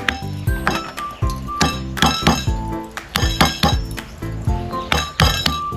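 Garlic being crushed for a stir-fry of Isan khan jong greens with fish: a steady run of sharp, close knocks with bright clinks, like a pestle or blade striking a hard surface, repeating about twice a second.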